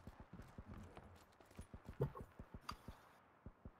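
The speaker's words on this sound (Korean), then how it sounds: "야지 발소리 들릴 때 저거 뭐지?" Footsteps in the PUBG battle royale game thud in a quick, even rhythm, about a dozen soft impacts spread across a few seconds, faint and fairly close, with no talk over them.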